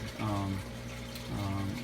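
Water runs through the pipes of an indoor hydroponic garden for lettuce and herbs, a steady close gurgling flow with a hum that rises and falls, while someone talks.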